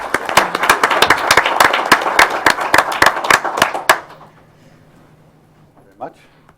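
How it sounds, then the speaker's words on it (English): A school board meeting audience gives a short round of sharp, close applause, individual claps distinct, that stops abruptly after about four seconds, leaving a quiet room with a faint hum and a brief voice. "How about one more big round of applause for our three?"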